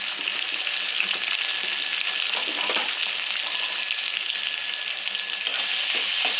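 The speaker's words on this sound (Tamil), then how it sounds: "இப்போ வந்து கருவேப்பிலை போட்டுக்கலாம், வெங்காயம் போட்டு நல்லா வதக்கிக்கலாம்" Onions and curry leaves frying in a pan for a crab gravy, a dense steady sizzle with occasional soft stirring, close and constant, no voices.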